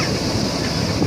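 Ocean waves at Wotgalih beach in Yosowilangun, Lumajang, on Java's south coast, a steady, loud wash of surf mixed with wind buffeting the microphone, with no voices.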